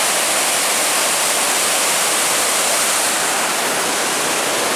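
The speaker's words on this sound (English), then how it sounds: "we just made it down here to our first river, and man, it's rushing this morning with all the rain we got last night" A river swollen and rushing after overnight rain along a hiking trail roars as a steady, dense wash of water noise, loud and unbroken throughout with no voices.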